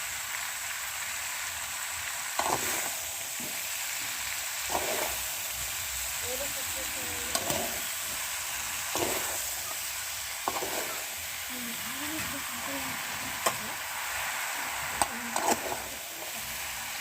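Boiled elephant apple pieces sizzle in oil with added sugar, a steady crackling fry punctuated by intermittent spoon scrapes against the pan, with a voice speaking faintly in places underneath.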